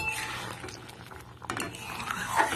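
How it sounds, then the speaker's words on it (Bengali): Chana dal in a pot, freshly uncovered after a minute of cooking, is stirred with soft scraping and a few light utensil clinks over a low bubbling sizzle, close but fairly quiet. "ঢাকনাটা খুলে একটু ডালটা নেড়ে চেড়ে নেব"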